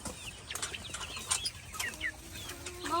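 Chickens clucking and calling on a farm, several birds close by with short irregular squawks and a few higher rising cries, busy and fairly continuous with faint scuffling underneath.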